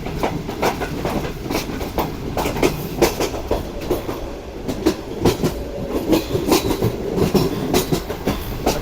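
The Pak Business Express train passes Changa Manga station in Punjab with a loud, close, rhythmic clatter of wheels over rail joints, heard from on board without talk.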